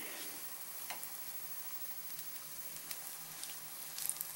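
Mickey Mouse-shaped potato pieces frying in hot oil, a steady close hiss and crackle with scattered small pops throughout, a little busier toward the end, no voices.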